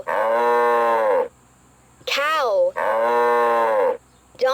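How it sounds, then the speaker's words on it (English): A cow moos twice in long, loud, drawn-out lowing calls with a short, wavering bellow between them, heard up close with no talk. "Cow."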